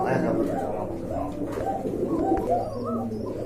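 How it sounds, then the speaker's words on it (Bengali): Rajshahi Griba Jalsa-eyed pigeons, a pair in glossy black, coo in low continuous murmurs, close and steady, with a busy loft background and other birds faintly around. "এক জোড়া টোটালি আনকমন কবুতর এটা হচ্ছে রাজশাহী গ্রীবা জলসা চোখের কবুতর"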